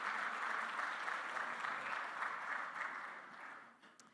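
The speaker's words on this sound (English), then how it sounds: "Please, a round of applause for the gentlemen." Steady applause from a conference audience at an energy markets forum, dense and continuous for about three and a half seconds before thinning out at the end.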